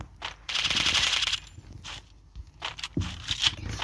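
Rapid automatic fire from an MP40 submachine gun in a video game, heard as two dense, loud bursts separated by short gaps and a few scattered shots.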